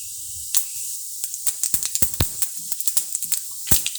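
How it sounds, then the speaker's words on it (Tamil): Fenugreek, mustard and cumin seeds splutter in hot oil, a rapid scatter of sharp pops and crackles over a faint sizzle, close and clear. "கொஞ்சம் வெந்தயம், கடுகு, கொஞ்சோண்டு சீரகம் நல்லா பொரியட்டும்."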